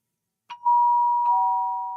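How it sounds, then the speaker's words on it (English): A two-tone doorbell chime rings clearly, a ding followed by a dong that sustains and slowly fades, with no one speaking. "Sorry, that's my doorbell."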